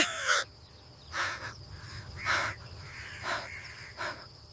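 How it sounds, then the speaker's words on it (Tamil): A crow gives a series of harsh caws in a forest, five calls spaced about a second apart over a steady low background hum, fairly close and clear. "ஒரு காட்டில் கடும் தாகத்தோடு ஒரு காகம் அலைந்து கொண்டிருந்தது"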